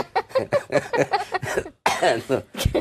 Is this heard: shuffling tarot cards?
no